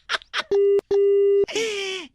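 Two long, steady electronic telephone tones with a short gap between them, followed by a burst of noisy broadband sound with a falling tone.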